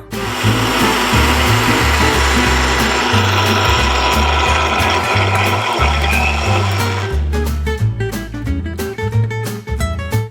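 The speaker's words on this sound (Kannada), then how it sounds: "ಈಗ ಮಿಕ್ಸಿ ಆಗಿದೆ" A mixer grinder runs loudly and continuously, blending a face pack mixture into a fine paste, then cuts off and leaves a rapid rattling clatter as the blades spin down.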